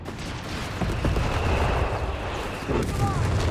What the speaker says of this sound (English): Artillery fire, machine gun fire here